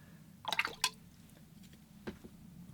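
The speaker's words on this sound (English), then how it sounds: "A couple of splashes there." Watercolor paint flicked onto paper in a winter snow scene painting, a few quick wet splatters close by, followed by a softer single splash, quiet room background.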